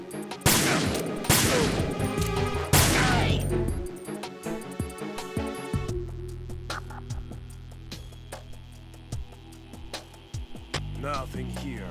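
Gunfire in Metal Gear Solid 2: Sons of Liberty during the tanker mission, loud sharp shots in quick bursts at first, then sparser scattered shots over a low background hum.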